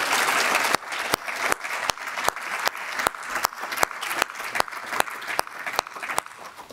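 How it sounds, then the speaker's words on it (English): Audience applause at a quarterly council meeting, a loud sustained wash of clapping that gradually thins into separate sharp claps spaced out near the end, with no voices over it. "A round of applause for..."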